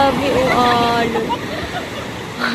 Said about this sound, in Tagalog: Nakakagulat yung alon.